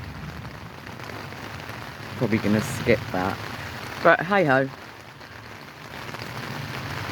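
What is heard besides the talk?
rain falling at Heacham Beach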